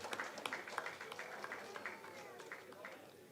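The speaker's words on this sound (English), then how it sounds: "Let's have a huge round of applause." An audience at the Sansmaran 2025 event applauds in a dense, steady patter of many hands clapping at a moderate distance, gradually thinning toward the end.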